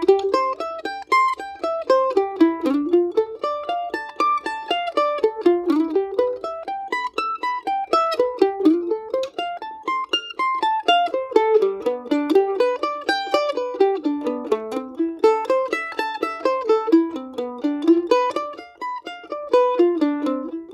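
Mandolin arpeggio exercise with slides, bright picked notes rising and falling in steady repeating waves, played solo and close throughout.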